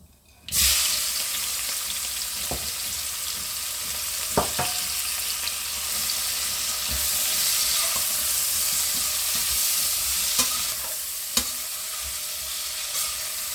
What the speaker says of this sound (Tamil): எண்ணெயை இதில் கொஞ்சம் வடிச்சு எடுத்துக்கொள்ளுவோம் இதில் இந்த வெங்காயத்தை போடுறேன்